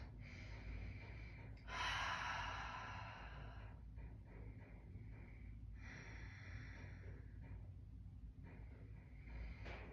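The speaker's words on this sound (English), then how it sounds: "a couple breaths here in yogi squat" Slow breaths drawn in and let out during a yogi squat, soft and close, with a sharper inhale or gasp near the two-second mark and quieter breathing after, no talking.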